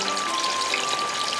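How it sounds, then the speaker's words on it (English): Ngoh Hiang deep-fries in hot oil, a dense, even crackle and bubbling sizzle held steady throughout a short stretch. "Heat up the oil and deep fry it to golden brown."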